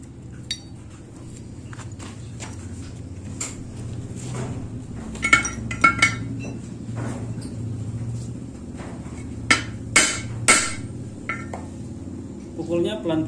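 A hammer taps gently on a motorcycle connecting rod to straighten it, a handful of light metallic clinks scattered irregularly, close by, with quiet workshop noise and some voices between the strikes.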